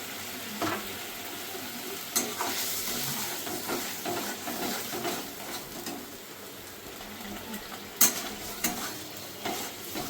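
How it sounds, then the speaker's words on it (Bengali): Masala for katla fish kalia frying in a pan, a continuous soft sizzle with intermittent stirring scrapes and a few sharper clinks, close but fairly quiet. "মশলাটা ভালো করে কষাতে হবে"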